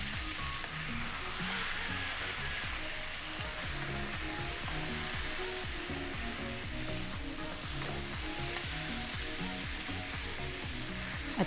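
Masala for kofta sizzles and fries in a pan while being stirred, a soft, continuous crackle with gentle, rhythmic scraping of the spoon, close by and quiet, with no talking.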